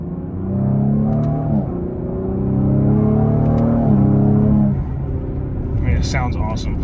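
A tuned car on an E50 fuel tune, fitted with catted high-flow downpipes and an AFE intake, revs up with a rising, throaty engine drone, eases off and climbs again, loud and close.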